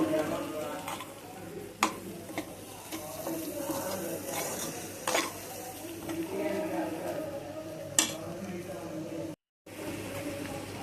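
Soft scraping and tapping of a spoon stirring tamarind-leaf and egg curry in a pan, with occasional sharper knocks against the metal, over a quiet background hiss.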